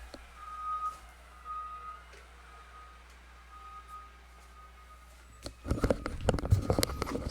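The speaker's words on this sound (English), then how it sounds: "So there's a garbage truck coming by, making a lot of noises." A garbage truck goes by with steady reversing beeps at a distance, then a loud burst of rumbling and clattering close by as it passes, with no talk.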